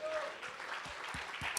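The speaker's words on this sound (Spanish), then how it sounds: "¿Cuántos aplauden al Señor?" A church congregation claps in a sermon setting, a brief burst of scattered applause with a voice briefly heard over it.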